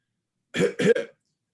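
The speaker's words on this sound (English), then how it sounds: "somebody coughs" Two or three quick throaty coughs in a row, close and clear, set against complete silence before and after.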